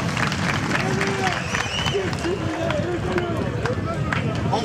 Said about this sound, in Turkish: Yarı finale giden baş pehlivanlara kocaman bir alkış yapar mıyız onlara?